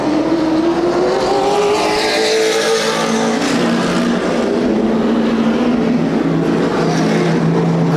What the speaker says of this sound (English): Trouble in turn 4. The 98 of Mingus goes around.